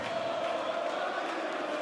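Dense, steady crowd roar from darts fans at the PDC German Darts Grand Prix 2024 in Germany, backing home qualifier Matthias Ehlers against Jeffrey de Zwaan, a continuous loud wash of cheering with no break.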